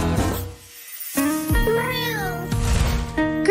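A cat meows in a children's cartoon, with several drawn-out, pitch-bending cries set against bright background music.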